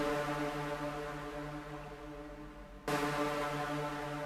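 A low, sustained synth chord rings out with heavy reverb, then is struck again with a sharp new attack partway through.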